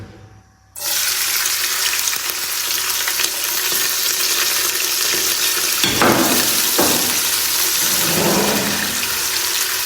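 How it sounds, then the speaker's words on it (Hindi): Onions for a camel karahi gravy sizzle steadily in hot oil, a loud continuous crackle beginning abruptly after a quiet moment, with a few stirring scrapes near the end. "इसको अच्छे से भून लेंगे प्याज़ों को"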